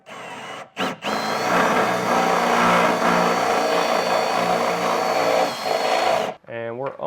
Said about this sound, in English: Now I'm going to use a step bit to get this drilled out.